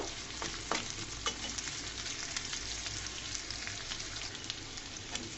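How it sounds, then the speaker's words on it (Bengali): Chopped onion and garlic fry in a pan for a drumstick curry, giving a steady close sizzle with occasional crackles and brief stirring scrapes throughout, with no voices. "পেঁয়াজটাকে আমি 2 মিনিট মতো ভেজে নিব।"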